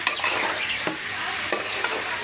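Vegetables being stirred and fried with spices in a pan, with a steady close sizzle and a few sharp scraping strokes of the spatula, no voices.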